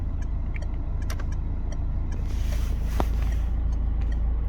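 Citroen turn signal ticking at a normal rate inside the car, faint regular clicks over a low steady engine hum.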